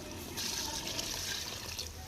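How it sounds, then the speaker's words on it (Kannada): Water pours into a cooking pot as a steady, close trickling splash that swells and then eases, with faint voices in the background. "ನಾಲ್ಕು ಚರಿಗೆ ನೀರು ಹಾಕಿಬಿಡ್ತೀನಿ ರೀ"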